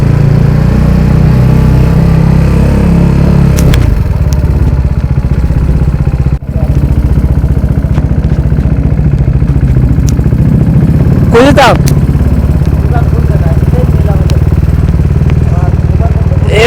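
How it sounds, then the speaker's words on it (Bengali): A motorcycle engine idles on a cold morning with a steady, loud mechanical drone and a faint repetitive ticking, while voices talk over it and brief clatter breaks through near the end. "একটা শব্দ হচ্ছে টিন টিন টিন হ্যাঁ শব্দটা যেমন ইঞ্জিন থেকে"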